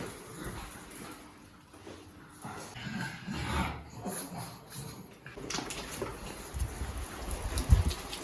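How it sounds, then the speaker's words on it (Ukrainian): Steady rain falls outdoors during a walk with a pug, a soft wash of patter that runs throughout, with light scuffs and brief dog sounds nearby. "Мафін, тут дощик."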